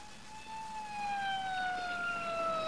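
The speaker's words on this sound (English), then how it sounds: "Sounds like an ambulance." Emergency vehicle siren, ambulance or police, sounding steadily as it passes at mid distance, its wailing tone sliding slowly downward and growing a little louder across the stretch with no talk over it.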